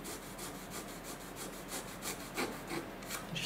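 Hand saw making an initial cut through balsa for a Piper Cub J3 RC model plane, a steady rasping stroke rhythm, close and fairly quiet, with no talking.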